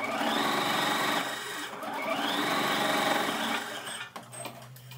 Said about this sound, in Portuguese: vamos rebater essa costura aqui, passando uma costura reta